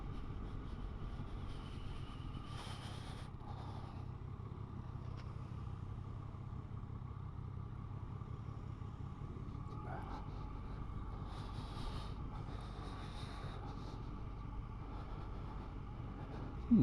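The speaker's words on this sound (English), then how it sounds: "Local motorcyclists coming up here at a rate of knots, obviously used to all this sort of thing." Local motorcycles ride up a hill road in North Yorkshire, with a steady engine drone throughout and a few faint higher whines passing, heard from some distance.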